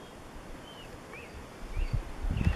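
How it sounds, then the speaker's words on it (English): A few faint, thin bird whistles in the distance, spaced apart, over quiet outdoor wilderness ambience near the Comanche Peak Wilderness boundary, Stormy Peaks, with some close rustling near the end. "But listen at these birds."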